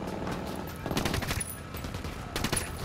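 Rapid gunfire in the shooter game Ghost Recon Wildlands rattles in dense automatic bursts, with heavier volleys around the middle and near the end.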